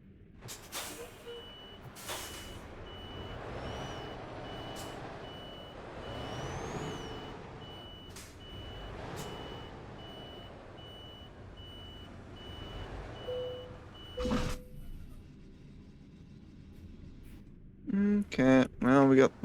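A truck drives around in a video game while regularly spaced reversing beeps sound over a steady engine drone, with air-brake hisses and music in the background and a burst of louder sounds near the end.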